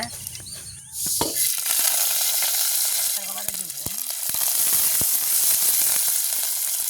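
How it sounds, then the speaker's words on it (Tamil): Fennel, fenugreek, mustard seeds, cumin and curry leaves hit hot oil in a village kitchen, bursting into a loud, steady crackling sizzle that carries on throughout, with brief stirring clatter. "நல்லா எண்ணெய் சூடாக எண்ணெய் வந்து நல்லா எங்களுக்கு சூடாகிட்டு நாங்கள் பெருஞ்சீரகம், வெந்தயம், கடுகு, நச்சீரகம், கருவேப்பிலை எல்லாத்தையும் சேர்த்துக்கொள்வோம்"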